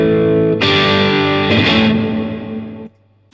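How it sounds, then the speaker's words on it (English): A sustained distorted electric guitar chord rings out, then a second chord swells with a wide, washy reverb tail from a TC Electronic Hall of Fame Mini pedal before cutting off abruptly. "Then the final reverb, the TC Hall of Fame Mini."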